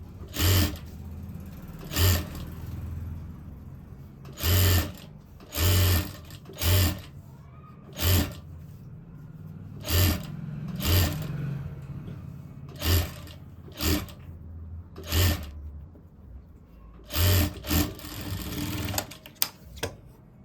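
A sewing machine stitches piping onto a sleeve-cut blouse in repeated short bursts of rapid mechanical whirring, close and steady, each run separated by brief pauses, with no voices.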